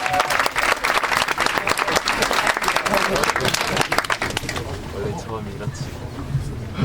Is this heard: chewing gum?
no